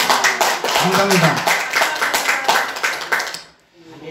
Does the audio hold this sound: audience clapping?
yes